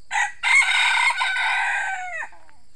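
A labuyo jungle fowl rooster crows once, a clear, fairly close call of several drawn-out notes that trails off at the end, with no voices.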